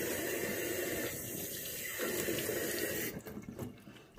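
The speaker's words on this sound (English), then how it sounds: "See, I've just washed it off in the sink." Water runs steadily from a tap into a sink during handwashing, a close, loud gush that thins out near the end.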